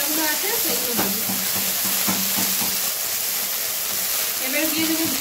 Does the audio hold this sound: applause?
no